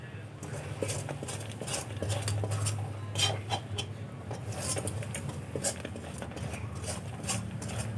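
Raw mango candy mixture with green food colour being stirred, with rhythmic clinking and scraping of a spoon against a pot while a person talks throughout.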